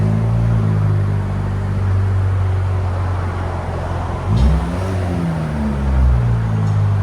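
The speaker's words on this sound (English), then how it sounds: "Chevy Malibu muffler delete with dual conversion." A 2020 Chevy Malibu with a 1.5L turbo engine, muffler delete and dual exhaust conversion runs steadily with a deep, droning exhaust tone, rising briefly in two swells like light revs, heard alone without talk.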